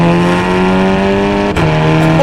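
Engine of a Volkswagen Golf 6 GTI Stage 2 pulling hard in sport mode, a loud steady drone heard from inside the car with a brief gear-change blip, while people talk.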